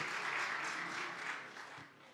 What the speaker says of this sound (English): Also applause.